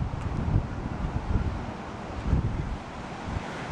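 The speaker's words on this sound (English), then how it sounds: "Gosh, it's very windy." Strong wind in Long Melford buffets the microphone in heavy, uneven gusts, with a steady low roar throughout and no voices.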